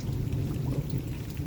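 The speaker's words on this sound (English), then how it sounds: "Thunder." Thunder rumbling during a spring rain in a North Texas garden, a low, steady rolling rumble mixed with the continuous hiss of falling rain, with no voices.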